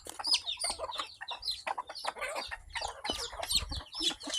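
Chicks and mother hens being moved into a coop, with soft, rapid clucks and peeping chirps close by, busy and overlapping, fairly quiet overall.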